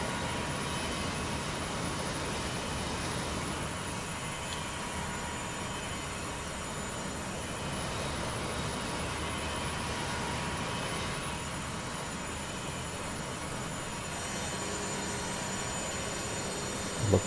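Steady roar of Boeing 727 jet engines in flight on a windy day, simulated in Microsoft Flight Simulator 2024, a constant broadband drone with a faint high whine and no talk.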